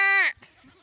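A goat gives one loud, nasal bleat lasting about a third of a second, followed by faint low background sound.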